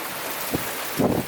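Steady broadband rush of heavy rain and wind in a typhoon in Naic, Cavite, with gusty swells buffeting the microphone.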